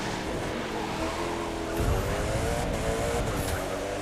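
Hypercar racing in the video game The Crew 2 on a road race from Detroit to Miami, a steady loud engine drone with rising revs and brief tire noise, continuous and close.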